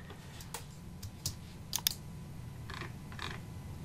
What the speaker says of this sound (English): So I'll type in 40 and hit enter.